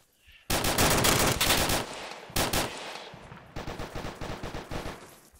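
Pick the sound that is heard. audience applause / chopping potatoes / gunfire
gunfire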